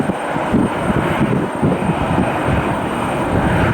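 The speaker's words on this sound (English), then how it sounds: "Like our American Airlines TWA Retro has pushed back." Airliner engines at Cleveland Hopkins airport, an American Airlines jet in TWA retro livery pushing back on a snowy day, give a loud, continuous rumbling roar that stays steady throughout with no talk.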